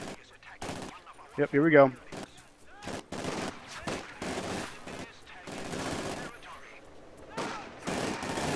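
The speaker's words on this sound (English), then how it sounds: "I got a machine gun." Machine gun fire in a video game comes as rapid bursts of shots that are loud, then sporadic. A player talks over the shooting between bursts.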